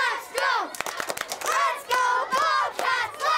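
Excited children cheer and shout in high, bright voices with scattered claps as a flag football team walks through an elementary school hallway, the noise loud and close and echoing in the hall.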